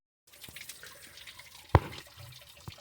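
Water from a garden hose flush pours out of a car's lower radiator hose and water pump area on an S10, a soft splashing trickle with a few louder drips and splats.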